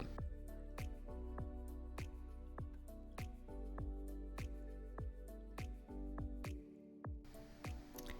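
Wet hands pressing sticky chocolate cottage cheese cookie dough, a steady series of close, quiet squishy presses and small wet smacks repeating at an even pace.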